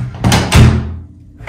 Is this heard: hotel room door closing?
yes